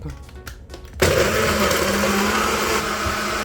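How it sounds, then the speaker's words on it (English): A blender starts up after a second of quiet clicks and whirs loudly and steadily, close by, blending strawberries and star apple into a smoothie. "The fruit then we're gonna mix up and we're ready to blend up."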